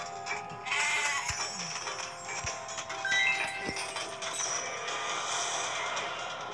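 Sheep bleating in the video game Dream Defence, several wavering cries in a row over a busy game soundscape with mechanical clanks and occasional thuds.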